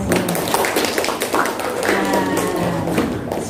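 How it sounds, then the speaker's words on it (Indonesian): Students at a junior high leadership training clap as an audience, a dense, steady patter of hands filling the room alongside chatter and voices. "tepuk tangan untuk kalian semua"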